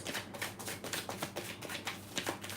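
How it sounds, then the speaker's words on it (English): Tarot cards being shuffled in quick riffling bursts, a soft rhythmic flutter repeating several times, close and fairly quiet. "Just gonna shuffle the cards"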